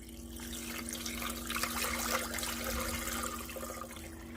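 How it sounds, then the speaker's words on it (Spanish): Running water is poured into a blender, a steady faint stream over a low constant hum, with no voices. "Y le vamos a agregar aquí 1 litro de agua."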